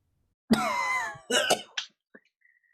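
A character in a dark stage comedy coughs in one long rasping burst, then gives a shorter double cough and a brief throat-clearing catch, close and clear with no talk over it.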